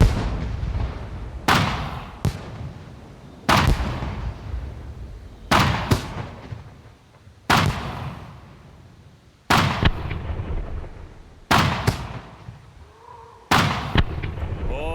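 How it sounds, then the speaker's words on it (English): Fireworks going off in the survival video game SCUM, seven loud sharp blasts spaced a couple of seconds apart, each followed by a crackling, rumbling decay. "I was just happy to find some fireworks"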